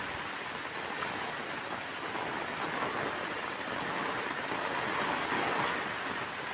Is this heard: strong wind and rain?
yes